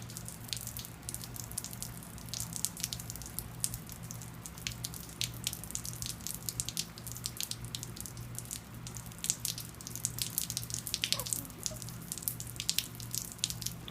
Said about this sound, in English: Rain's kind of fun, isn't it?